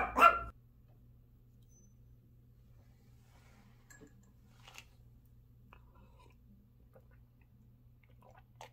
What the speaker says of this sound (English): My dog is poised to start barking any second now